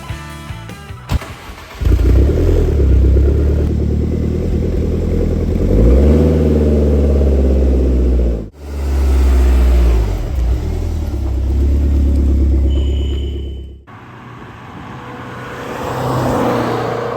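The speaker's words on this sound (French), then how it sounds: "je vais vous emmener en balade avec ce moteur terrible" A Lancia Delta Integrale HF rally car engine starts and revs up with a deep rumble, rising and falling through several accelerations, loud and close, no voices.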